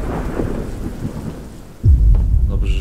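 Thunderstorm ambience in the horror video game Slender: steady rain hiss with low rumbling, then a sudden loud, close thunder crack and heavy roll near the end.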